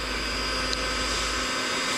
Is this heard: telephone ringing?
no